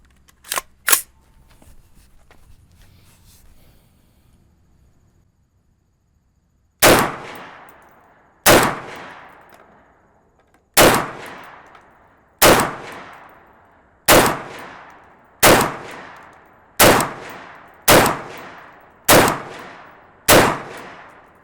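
Sharp, loud gunshots from an "other firearm" fired with and without a muzzle brake: two faint early pops, then a pause, then ten evenly spaced, ringing reports about every second and a half, each decaying quickly.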